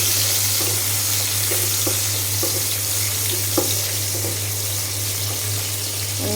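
Chopped onion and garlic fry in oil with a steady sizzle, a constant hum running underneath and a few faint clinks of stirring; no one speaks.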